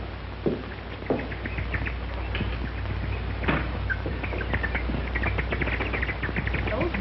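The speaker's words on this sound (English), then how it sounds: "They're certainly making a lot of noise about it." Birds in the countryside chirp in a 1941 film, with scattered short tweets and calls repeating throughout over a constant low hum, fairly close and moderately loud.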